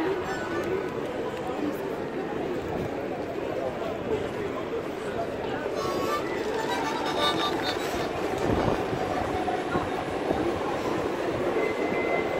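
A train rumbles through Gare du Nord station in Paris during a street demonstration, with a continuous rolling rail roar and a brief screech of wheels, heard under voices talking nearby.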